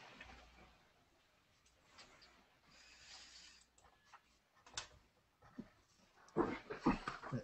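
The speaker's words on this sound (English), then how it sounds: "New attention grabbing dog. I hate that dog so much." A dog whimpers and pants in short, uneven bursts, fairly faint at first and growing louder near the end, with no talk over it.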